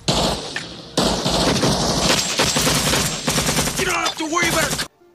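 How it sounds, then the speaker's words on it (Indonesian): Dense, nonstop gunfire from a Vietnam war film: overlapping rifle and machine-gun bursts roar loudly throughout, with explosions and battle clatter layered in before it abruptly stops. "Di tengah baku tembak"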